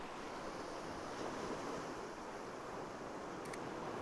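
Water washing up onto a rocky shore, a continuous broad surf rush at moderate distance with no voices and a faint click near the end.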